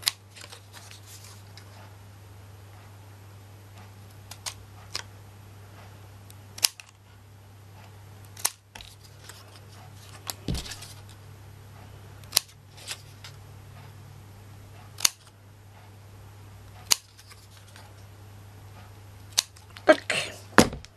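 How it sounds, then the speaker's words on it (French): Scissors snip small pieces of paper while making a homemade chequebook, sharp isolated cuts spaced every second or two over a low steady hum, close and fairly quiet. "Il faut couper ces petits bouts."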